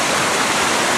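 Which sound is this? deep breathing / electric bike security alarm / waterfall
waterfall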